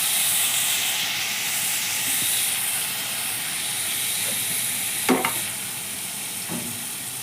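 Spice paste of ground chili, ginger and turmeric hits hot oil in a pan, giving a steady broad sizzle and hiss throughout, with a couple of brief louder crackles near the end and no talking.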